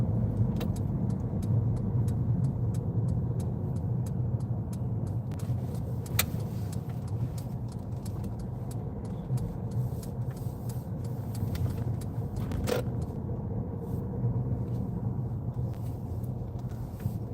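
A car rolls slowly through a busy car park during a UK practical driving test, its engine a steady low rumble with faint clicks and ticks, no talking.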